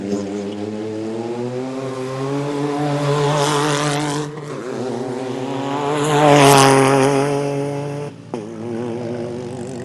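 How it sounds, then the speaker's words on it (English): A 308 rally car at the 2025 Abu Dhabi Desert Challenge launches off the start line, its buzzy, two-stroke-like engine revving loudly and steadily nearby, swelling and dipping with gear changes. "This should be the 308 going off the line right here. It's like a two-stroke."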